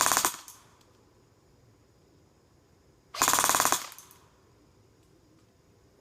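Two short full-auto bursts from an airsoft gun cycling at about 15 rounds per second, each roughly half a second of rapid mechanical clatter, close and clear, separated by near silence.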